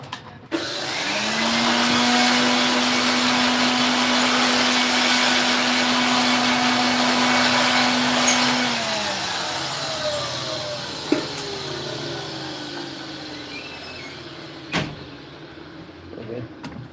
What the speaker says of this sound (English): air pressure with air blower.